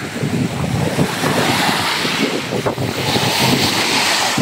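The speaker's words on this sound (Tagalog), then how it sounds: "Parang ito nang yata yung pinaka taas ng dagat ngayon." Sea waves wash onto the shore at high tide, a loud continuous surf roar with wind buffeting the phone microphone, steady throughout with no voices.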